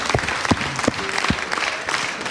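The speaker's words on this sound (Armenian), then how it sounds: "Ծափարեք, խնդրում եմ բարձր" Clapping from an audience at a televised club show, sparse and uneven with a few sharp individual claps standing out from a thin crowd wash.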